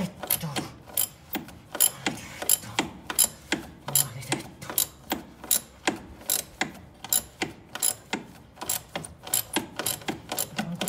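A ratchet wrench clicks in quick repeated bursts while undoing a long steering box bolt on a Fiat Panda 900ie, with close, regular pulls and short pauses.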